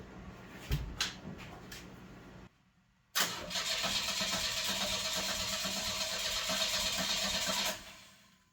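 A 1988 Chevy S10 pickup engine cranks with a few whirring turns, falls silent briefly, then catches and roars into a steady, loud running rumble before fading.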